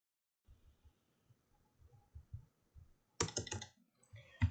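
Computer keyboard keys are typed in short, quiet bursts while entering a value in CAD software, soft clicks scattered irregularly, then a louder cluster of keystrokes near the end.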